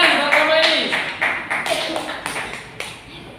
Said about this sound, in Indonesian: Tepuk tangan buat kamu ini